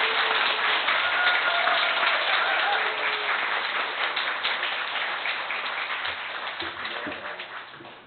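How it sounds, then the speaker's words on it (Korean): A church congregation applauds to welcome a guest to the front during a special thanksgiving service, a steady mass of clapping that holds for several seconds and slowly fades. "여러분 박수로 맞이해주세요."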